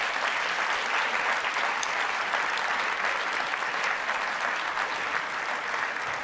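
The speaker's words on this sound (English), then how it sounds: "So please just give them a massive round of applause." Audience at an engineering awards ceremony bursts into sustained applause, a thick continuous wash of clapping from a large crowd that holds steady from start to finish with no voices over it.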